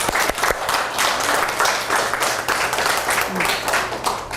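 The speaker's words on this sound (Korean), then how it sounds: "아마 계속 하실 수 있도록 박수 쳐주세요" Audience applause in a lecture hall during a children's camp seminar, dense continuous clapping from many people, loud and close, with a voice briefly mixed in.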